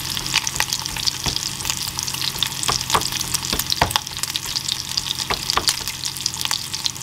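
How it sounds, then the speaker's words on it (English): Bacon frying in a pan while camping in a school bus, a dense continuous crackle and sizzle full of sharp spitting pops, close and steady with no voices. "Bacon's just about done."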